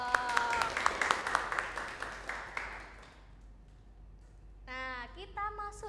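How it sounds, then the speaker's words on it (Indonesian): Classroom applause during a microteaching lesson: a short burst of clapping with sharp individual claps that fades out after about three seconds, followed by a voice speaking. "Beri tepuk tangannya dong."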